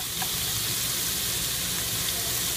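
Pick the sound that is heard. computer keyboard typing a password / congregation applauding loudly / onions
onions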